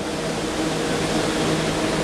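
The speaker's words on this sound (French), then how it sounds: "J'espère que le bruit des ventilateurs ne sera pas trop pénible." Electric fans whir in a steady, loud broadband rush with a faint tonal hum running beneath it, unchanging from start to end.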